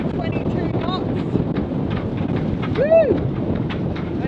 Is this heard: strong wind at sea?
yes